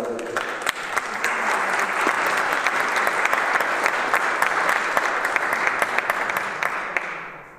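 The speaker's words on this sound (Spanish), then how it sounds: "ese tímido aplauso hay que multiplicarle un poco, que ha merecido la pena" Audience at a conference talk on artifice and beauty applauding after the speaker: sustained, even clapping from a seated crowd, moderately loud with a few sharper claps standing out, fading at the end.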